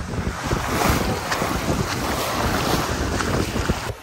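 A boat runs on the open sea off Máncora with a constant roar of wind and waves and heavy wind buffeting on the microphone, loud and continuous throughout.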